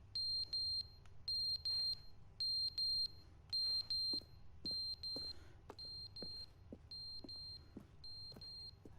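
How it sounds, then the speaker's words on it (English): An alarm clock beeps in the video game The Stanley Parable Ultra Deluxe, sounding regular bursts of rapid high-pitched beeps that repeat about once a second, faint, over a soft low hum and scattered clicks. "Is that our alarm clock?"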